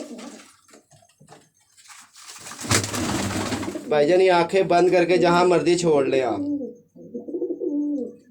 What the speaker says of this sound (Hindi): ये अब नए कबूतर आए हैं।